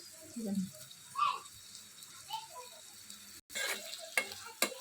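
Onions fry with curry leaves in a pan, a soft sizzle under occasional stirring scrapes and clinks, with a brief sharp cut and a couple of louder utensil knocks near the end, and faint voice nearby.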